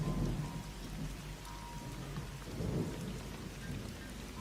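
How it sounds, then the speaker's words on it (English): Heavy torrential morning rain pours over the reed valley of the Guadiaro River while thunder rumbles low and rolling in the distance, two swells of rumble rising over the constant hiss of rain. "the thunder resonating over the Reed Valley of the Guadiaro River in the torrential rains of the morning of the 4th of April 2013"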